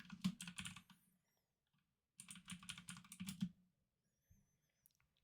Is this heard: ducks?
no